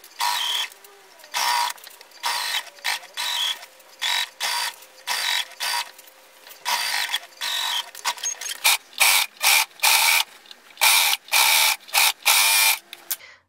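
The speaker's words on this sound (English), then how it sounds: "now we're going to sew using 1 cm seam allowance all along the crotch seam." A sewing machine stitches the crotch seam of a pair of shorts in repeated short runs, its mechanical whirr starting and stopping in an uneven rhythm, close and clear with no talk.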